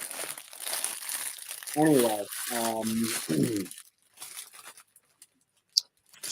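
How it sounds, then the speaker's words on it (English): Crumpling and crinkling noise, as of handled paper or plastic close to a microphone, rustles in bursts while a voice talks over part of it, then trails off into quiet with a few sharp clicks. "We got a weird crumpling sound going on."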